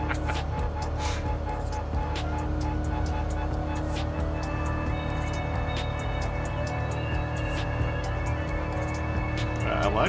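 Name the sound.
Corvette race car engine burble in Gran Turismo Sport video game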